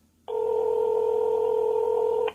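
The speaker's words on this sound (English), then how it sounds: "I'm going to press this button twice, and it will dial the last number that you've dialed on your cell phone." A Bluetooth in-car speakerphone sounds a single sustained tone for about two seconds, starting and stopping abruptly, while redialing the last number called. The tone is loud and clear over a quiet background.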